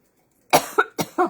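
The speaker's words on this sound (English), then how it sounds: "I don't usually start coughing." Three or four short, dry coughs in quick succession, close and fairly loud, following a moment of silence, as if from inhaling makeup powder.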